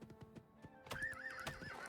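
A video game horse clops its hooves in a quick rhythm, then lets out a loud whinny that wavers up and down, fairly close with no talk.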